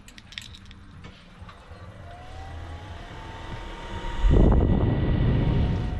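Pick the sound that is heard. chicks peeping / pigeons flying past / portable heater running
portable heater running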